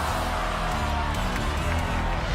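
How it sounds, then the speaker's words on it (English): A large audience at an obstacle-course competition roars and cheers continuously, a dense wall of crowd noise with scattered whoops and claps, no single voice standing out. "you can hear the roar from the crowd."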